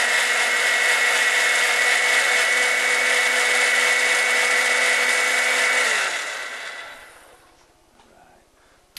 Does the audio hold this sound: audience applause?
no